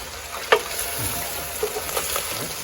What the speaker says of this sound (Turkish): Ispanakları biraz karıştıracağım